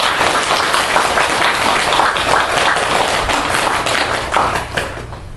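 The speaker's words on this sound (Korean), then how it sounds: "운영님께 그 감사의 박수를 한번 같이 할까요?" A seated audience at a Buddhist dharma talk breaks into loud, continuous applause of many hands, filling the room evenly for about five seconds before easing slightly toward the end.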